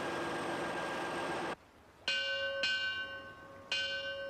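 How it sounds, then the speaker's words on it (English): A tall ship's bell struck three times, each ringing stroke clear and sustained, coming after a stretch of broad rushing wind and sea noise that suddenly drops away. "Ship's bells are struck every half hour."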